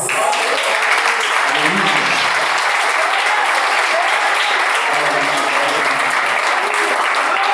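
A church congregation applauds loudly and continuously during a sermon, a dense wash of many hands clapping throughout, with a voice briefly heard underneath.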